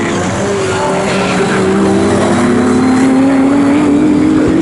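Ginetta GT race cars roar around Snetterton circuit, loud engines droning and rising in pitch as they accelerate, several cars overlapping in a continuous nearby blare.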